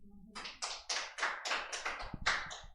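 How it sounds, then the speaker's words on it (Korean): Several people clap in short bursts of applause to welcome a newcomer at a Korean church youth gathering, a roomful of hands patting in quick, uneven rhythm for nearly three seconds. "환영의 박수로 한번."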